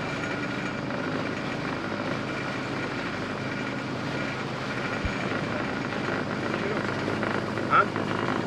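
Helicopter flying nearby over the coast near Zeytin Island at Göcek, a steady broadband rotor and engine roar holding level throughout, close and loud, with no voices.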